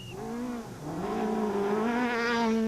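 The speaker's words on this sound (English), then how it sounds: "Keane survived a few moments and the long Kingsview stage to emerge from the forest in a time of 32 minutes and 1 second." Volkswagen rally car on a forest stage, engine revving hard and rising through gears, loud and close with a high whine over rumbling tyres.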